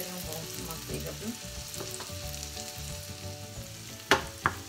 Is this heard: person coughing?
no